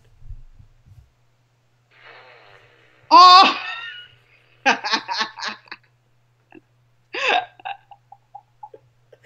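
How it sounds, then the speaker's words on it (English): An Alexa smart speaker plays a fart sound effect as a few short, sputtering, pitched bursts that taper into small blips, with a person briefly exclaiming nearby. "Alexa, ask for a fart."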